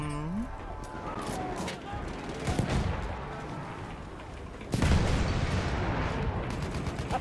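Machine gun and rifle fire in Battlefield 1, dense bursts and shots layered with explosions and battlefield din throughout, with voices talking over the chaos and a louder burst of fire near the end.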